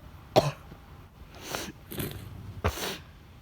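Several sharp coughs from a person with flu, spaced irregularly across a few seconds, close and fairly loud with no talking.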